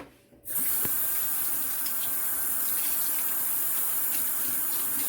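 Tap water gushing steadily into a sink to wet a Norwex mop pad, starting abruptly after a brief pause and then holding as a loud, even, continuous rush close by.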